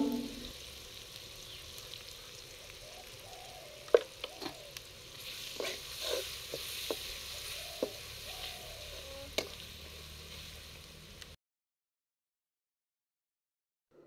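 Onions frying in a pan for a potato and home-dried fish curry give a steady close sizzle, broken by scattered spoon clicks and scrapes from stirring, before the sound cuts off into silence near the end.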